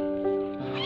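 Abandoned kitten at a market in Semarang crying with a steady, high-pitched wail that rises and strains over less than a second, close and fairly loud.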